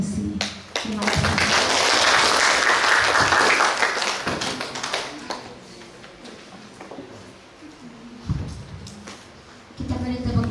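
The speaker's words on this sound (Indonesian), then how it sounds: "Kita beri tepuk tangan sekali lagi." Audience applause after a university lecture swelling loudly, then thinning into scattered claps and taps, with a voice speaking briefly near the end.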